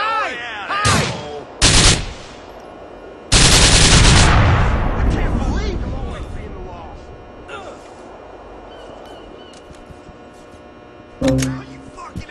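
Gunfire in GTA IV: several sharp, loud shots and bursts ring out, with long reverberant decays between them, and a final shot comes near the end, all without speech.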